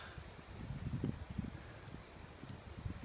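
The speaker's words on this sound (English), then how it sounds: "The wind is picking up a lot" Wind gusting through woodland at a wild hammock campsite, a soft, steady low rush with faint rustling and light microphone buffeting, no voices.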